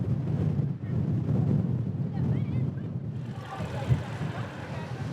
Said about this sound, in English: Whew, that wind is intense.